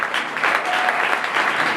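A church congregation claps together in a sustained burst of applause, dense and fairly loud, filling the room with steady rapid hand claps throughout.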